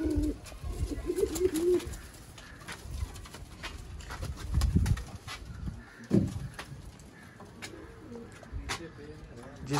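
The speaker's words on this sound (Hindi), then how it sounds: "A+ क्वालिटी दोस्तों चपड़े कबूतर आपकी स्क्रीन पर।" Chapray pigeons of A+ breeder quality coo in low, soft bursts, with faint bird chirps and light background noise around them.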